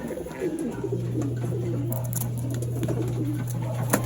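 A racing pigeon arriving at its loft after a 139 km derby race from Mulanay, Quezon, coos softly and steadily, with faint flutters and light taps around it.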